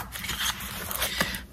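Scissors snip through cardstock in a few quick close crisp cuts, brief rustling strokes close to the microphone with no talking.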